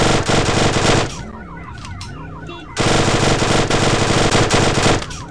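Loud, rapid bursts of video game automatic gunfire, likely an Uzi, with a siren wailing in a brief gap, then the shooting resumes, dense and continuous.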